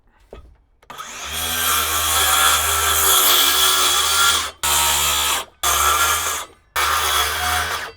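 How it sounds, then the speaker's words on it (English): Circular saw set to half-inch depth cutting a beam pocket into wood framing: a loud sustained whining cut with strong low hum, then three shorter bursts separated by brief silences. "Now we'll set our saw to a 1/2 inch so we don't cut into our jacks, and then cut it out."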